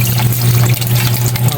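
Tap water runs steadily while kangkong (water spinach) is washed in a steamer for a kangkong omelette, a continuous close splashing wash with no talk.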